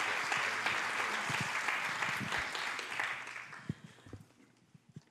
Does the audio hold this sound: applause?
yes